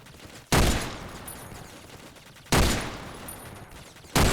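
Three heavy gunshot blasts in the first-person shooter game Otxo, each striking hard and decaying over about a second and a half, spaced roughly two seconds apart, loud and up close with no talking.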